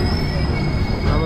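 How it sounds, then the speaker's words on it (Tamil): A passenger train, a Coimbatore Intercity, rumbles past close by at Jolarpettai, with steady wheel and carriage noise and a faint high squeal running through, loud throughout. "இங்கே ஒரு ட்ரெயின் வருது ஜோலார்பேட்டையில்"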